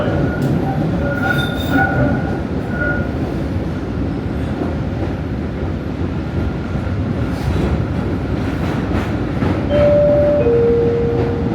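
Boston T subway train rolling steadily along the rails on its approach to State Street station, a constant loud rumble with brief wheel squeals and a faint announcement chime near the end.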